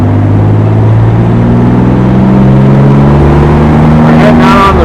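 A 1970 Jaguar XKE Roadster pulling onto a freeway, its engine droning steadily and loudly with rising tones as it accelerates, wind and road noise underneath.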